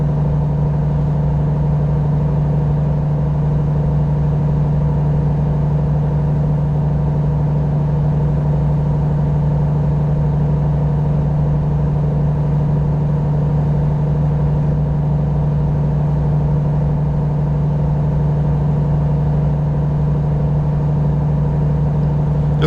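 Volvo truck engine in American Truck Simulator, a steady low diesel drone with a strong constant hum, running continuously at an even load with no talk over it.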